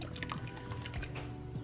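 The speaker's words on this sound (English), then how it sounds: "I'm gonna go ahead and add in the cream." Cream poured into a pan of broccoli, a soft close dribbling and dripping of liquid, quiet and steady over a couple of seconds.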